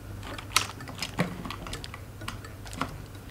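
Key presses on a Signo KB-770 mechanical keyboard with RGB lighting, heard as a few sharp, separate clicks spaced irregularly over a low background hum, close and fairly quiet.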